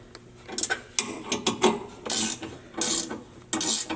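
Ratchet work on a Jeep JLU, snugging track bar and sector shaft brace bolts with an 18mm socket: bursts of clicking and rasping metal, close up and moderately loud, separated by short pauses.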